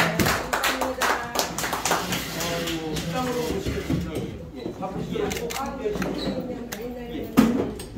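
Clapping from a small gathering of about seventeen people at the close of a life-school meeting, with distinct individual claps fading as people talk over it.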